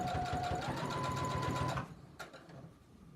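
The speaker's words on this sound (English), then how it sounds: "I'm going to go ahead and back stitch or lock that stitch in the corner" A sewing machine back stitching the corner of a beach tote runs steadily for under two seconds with a fast rhythmic whir, then stops, leaving faint room noise and a small click.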